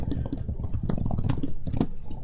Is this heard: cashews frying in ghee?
no